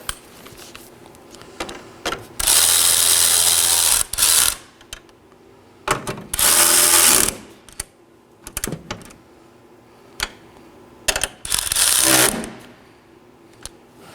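A ratchet snugs down transmission mount bolts on a 2018–2024 Chevrolet Equinox, giving three close bursts of rapid clicking separated by quieter pauses with small taps and handling noises.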